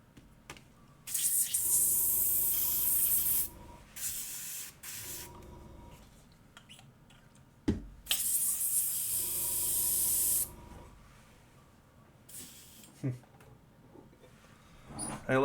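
An airbrush sprays in two long hissing bursts of a few seconds each, with shorter puffs in between, close and loud.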